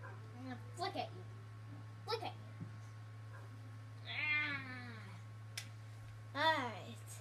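A house cat meows several times, with two drawn-out, wavering cries standing out, close and clear over a steady low hum, with short bits of other sound in between.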